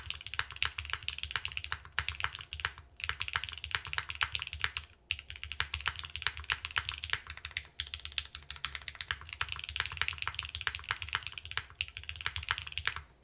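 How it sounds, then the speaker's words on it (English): Fast continuous typing on a mechanical keyboard with granite alpha keycaps and stainless steel, a dense patter of clacky keystrokes with a few brief pauses, close and clear with no voices. "The alphas being granites sound really fun and lively."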